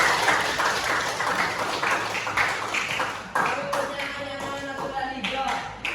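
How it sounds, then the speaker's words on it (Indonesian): Junior high students in a classroom clap together for a group, a loud dense burst of clapping that thins into scattered claps with voices and chatter rising underneath. "Tepuk tangan dulu untuk kelompok satu."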